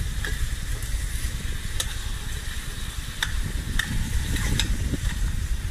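Sizzling of caramel sauce in a hot frying pan with scraping stir strokes and a few sharp clinks, steady and close, no talking.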